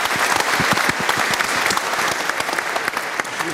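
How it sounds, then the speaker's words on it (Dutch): A hall audience at a regional debate on population decline in Friesland applauds a speaker, giving dense, sustained clapping with sharp individual claps standing out nearby throughout. "Applaus"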